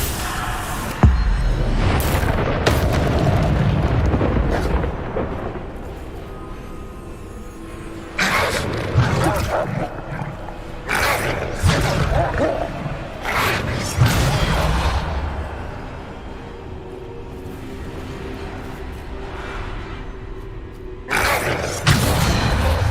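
Explosive Bombarda spell blasts and magical combat effects in the video game Hogwarts Legacy, with repeated loud booms, crashes and whooshes in bursts over a rumbling backdrop.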